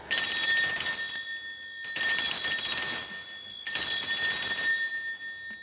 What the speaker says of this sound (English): I am going to be ringing a bell.